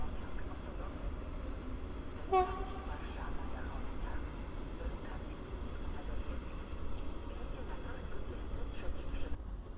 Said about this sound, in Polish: Trax kolei mazowieckich z pociągiem piętrowym.